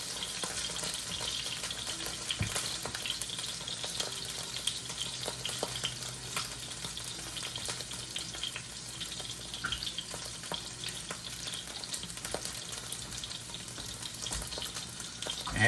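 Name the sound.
salmon pan-searing and sizzling in a pan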